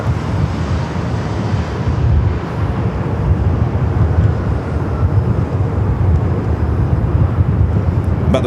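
A Delta jet taking off from runway 24 left at Los Angeles airport (LAX) gives a broad, steady rumbling roar that holds for the whole stretch, heard from some distance with wind buffeting the microphone.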